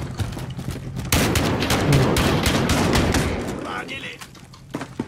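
Shotgun fire in a video game firefight in a half-village setting, a dense burst of loud blasts sustained over several seconds amid chaotic action, with a voice speaking briefly.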